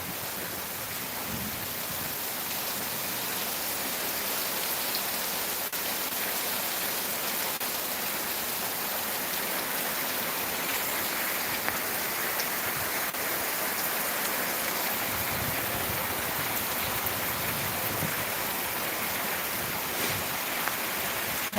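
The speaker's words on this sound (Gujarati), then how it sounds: "જોઈ શકો છો ધોધમાર વરસાદ આવી રહ્યો છે." Heavy rain pours steadily during a thunderstorm in Gir, a dense continuous hiss of drops on surfaces that stays loud and unbroken throughout, with no voices.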